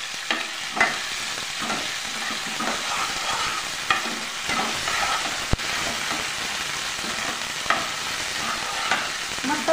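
Coriander and green chilli paste sizzle as they are sautéed in a pan for masoor dal, with a steady close frying hiss and occasional spatula scrapes and taps, with no talking.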